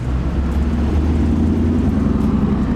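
A deep, rumbling aftermarket exhaust on a ZL1 car idles loudly and close by, a steady throaty drone with no talking.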